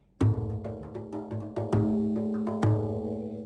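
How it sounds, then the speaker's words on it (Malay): A few resonant rebana frame drum hits with deep thumps and ringing tones, struck in an unhurried pattern up close. "Rebana bunyi macam ni."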